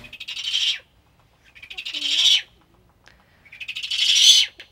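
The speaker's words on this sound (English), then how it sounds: "You're a hungry bird, aren't you, Squiggy?" A hungry bird at a bird rescue gives three long, raspy, hissing calls in a steady rhythm, each rising and then cutting off, heard close with near silence between them.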